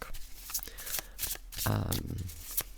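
Close-up shuffling of a deck of tarot cards, with quick papery flicks and riffles, while a voice briefly speaks midway.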